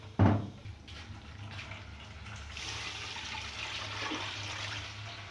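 Water poured into a pan of bones for a bone curry: a sharp knock, then a steady hissing, splashing pour that swells and continues to the end.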